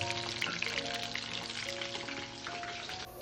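Squid pieces shallow-fry on a tawa with a continuous, close, crackling sizzle of hot oil that stays fairly even throughout, and no one speaks.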